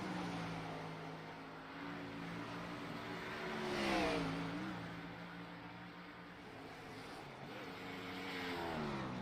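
Simulated race cars lapping a track in the iRacing game during a Thunder Cup Series race, their engines droning steadily with rising and falling pitch sweeps as cars pass by, fairly quiet and continuous.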